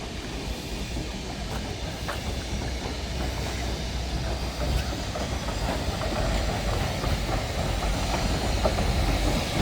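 A Northern train rolls past on the railway, a steady, loud rumble with hissing and faint wheel clatter that builds slightly toward the end, with no voices over it.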